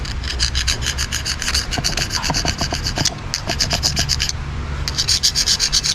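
A screwdriver scraped back and forth across an engine crankshaft journal after the engine was revved to 4,000 RPM with no oil pressure, giving rapid rhythmic rasping strokes, close and loud, with brief pauses between passes.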